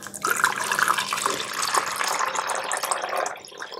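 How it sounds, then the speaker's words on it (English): Cold water pours steadily and splashes into a 1970s Breville Melitta automatic coffee machine, a continuous close rushing sound that eases off near the end. "I'm going to now add in my cold water."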